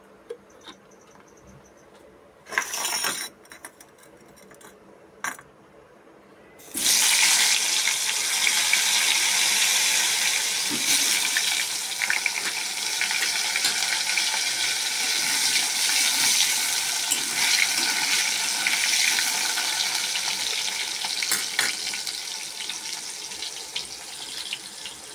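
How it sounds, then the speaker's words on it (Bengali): Potatoes fry in hot oil left over from frying fish, a loud, steady sizzle that erupts suddenly after a few quiet clicks and clatters, then crackles on without letup. "আলু কটা ভেজে নেব"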